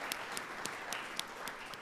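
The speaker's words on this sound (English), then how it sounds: "let's clap it up, guys" Audience applause at a mayors' address to a metropolitan club, a steady, fairly quiet wash of many hands clapping throughout, with a few sharper individual claps standing out.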